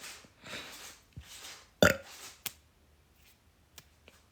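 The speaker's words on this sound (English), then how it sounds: "I can burp on command." One loud, close burp on command stands out over a few soft voiced bursts and scattered clicks, with a quiet indoor background.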